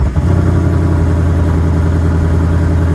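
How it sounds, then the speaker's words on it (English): A 2022 Ford Mustang GT's 5-liter V8 with an active performance exhaust fires up on remote start and settles into a deep, steady, rumbling idle that stays loud and close throughout. "you can hear that active performance exhaust system come to life"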